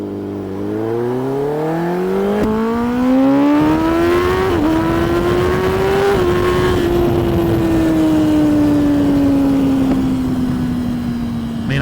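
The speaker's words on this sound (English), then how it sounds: "That car is stupid fast." A very fast car accelerating on the road, heard from a ZX-10 motorcycle: a loud, continuous engine roar whose pitch climbs steadily, briefly dips at a shift, then holds high and slowly eases for the rest of the stretch.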